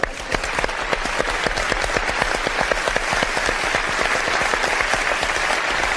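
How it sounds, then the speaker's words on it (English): A live studio or on-site audience at a televised ghost-hunting broadcast from Aldwych Tube Station breaks into steady, loud applause, dense clapping holding evenly for the full six seconds with no voices over it. "Give her a round of applause, Michelle."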